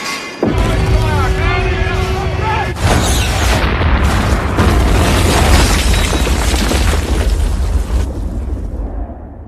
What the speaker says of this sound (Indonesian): tank tentara Serbia menembak bangunan tempat mereka berlindung